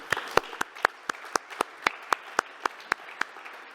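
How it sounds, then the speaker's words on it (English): Sparse applause at a hybrid evening event of the Berlin Demography Forum: a few crisp, evenly spaced hand claps, about four per second, stand out close against a quiet room for under four seconds. "I think this deserves a little applause"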